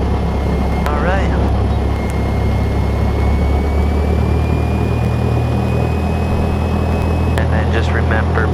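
A Cessna 152 light aircraft's piston engine drones steadily on the runway, a loud continuous low hum with a faint rising whine throughout and brief higher-pitched noises near the start and end.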